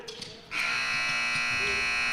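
A loud, sustained electronic buzzer sounds at halftime of a college basketball game between Blue Lights Thoroughbreds and Mid-Atlantic Christian, starting abruptly after a brief stretch of gym noise and holding steady to the end.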